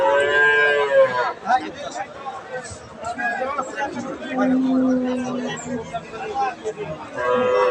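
A cow moos loudly in a long, drawn-out call amid busy crowd chatter and livestock noise at a cattle market, with several people talking nearby.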